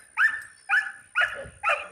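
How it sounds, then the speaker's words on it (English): A dog barks four times at ducks in a garden in an even rhythm, each bark short and fairly close, with a faint steady tone in the background. "She's barking at the ducks."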